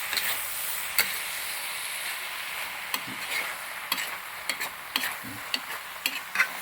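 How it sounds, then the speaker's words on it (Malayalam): Avial, a Kerala mixed-vegetable dish with coconut and curry leaves, stirred in a pan: soft steady sizzling hiss broken by irregular scraping knocks of the spoon against the pan, close by and without voices. "നന്നായിട്ട് ഇളക്കി കൊടുക്കണം"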